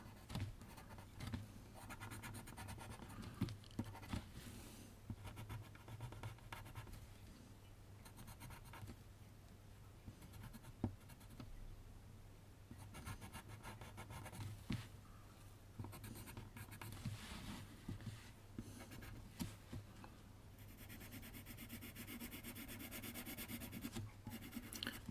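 A pencil scratches steadily across paper while sketching a teddy bear's face, soft close-up strokes in short bursts and longer rubs, quiet and continuous with small pauses.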